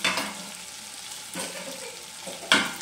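Ginger frying in a tablespoon of butter for a desi-style dish, a steady crackling sizzle with a couple of sharper spatters and stirring scrapes, close by and with no talk.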